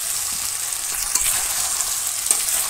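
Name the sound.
meat being fried (kosha) with potatoes in a village kitchen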